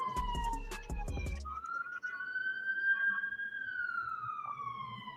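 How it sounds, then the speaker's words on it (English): A siren wails loudly, rising and holding a steady high tone after a burst of clattering, noisy thumps at the start. "Sorry for the sirens."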